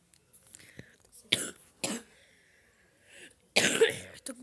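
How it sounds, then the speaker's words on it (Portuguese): Several short, hoarse coughs from one person, spaced irregularly with quiet gaps between them, close to the microphone and fairly soft. "Tô com um pouco de tosse aí,"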